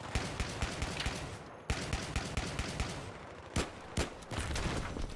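Battlefield 3 combat with rapid bursts of automatic gunfire crackling continuously, broken by a few sharper, louder single blasts such as grenade launcher hits, at moderate distance.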